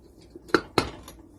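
A metal lid set onto a cooking pot while pork trotters simmer, giving two sharp clanks close by about a quarter second apart, followed by a faint rattle.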